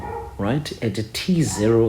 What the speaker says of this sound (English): I'm sorry about the dogs that are barking outside.